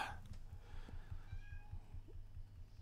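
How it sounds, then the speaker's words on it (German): A cat meows softly a couple of times, faint and somewhat distant, over a low, steady background hum. "Miau."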